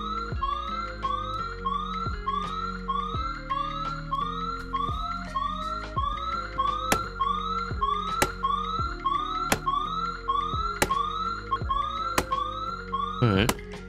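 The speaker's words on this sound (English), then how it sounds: "there's a nice little alarm to go with it as well" A repeating electronic alarm in the survival video game DayZ, with rising wailing tones that pulse steadily and loudly throughout, joined by sharp clicks and a final burst, and no one speaking.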